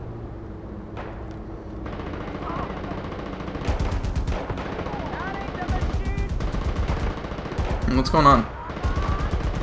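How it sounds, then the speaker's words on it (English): Far Cry 4 gunfire: repeated bursts of close, loud automatic fire with rapid shots that grow denser toward the end, while a person speaks briefly over it. "All this firing was going on, and then all of a sudden, boom."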